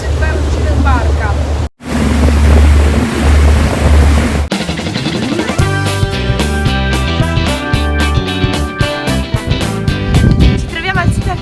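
A boat ride on the sea off southern Cyprus, with loud wind buffeting and the rush of waves and water close by, then a steady engine drone with music and voices over it.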